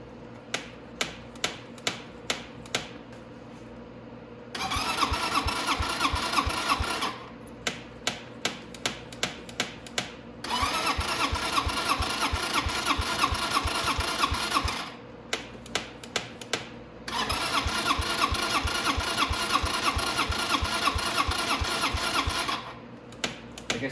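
A 250cc Venom X22GT motorcycle that has sat unused for months cranks in several long starter bursts, each a few seconds of loud churning whir, with sharp rhythmic clicks and ticks filling the pauses between attempts.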